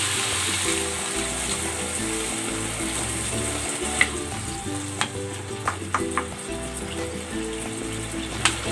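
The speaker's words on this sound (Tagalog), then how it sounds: "Maglalagay ako ng tubig." Water goes into a hot pan of frying potatoes and carrots, producing a loud continuous sizzle and bubbling hiss with a few sharp clicks and utensil taps close by.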